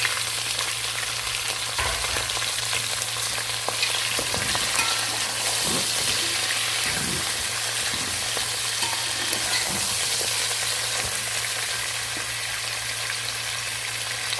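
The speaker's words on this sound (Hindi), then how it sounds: "अब हम इसमें गोश्त डालकर अच्छे से भून लेंगे।" Mutton fries loudly in a pan after browned onions, a constant crackling sizzle with occasional scrapes and knocks of stirring.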